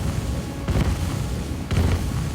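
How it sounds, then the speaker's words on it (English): Energetic explosions in the video game Divinity: Original Sin, two muffled booming bursts rising out of a dense, rumbling game soundscape. "that's very energetic explosions"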